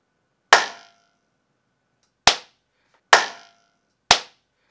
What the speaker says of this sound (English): I'll just clap quickly so you can really hear the difference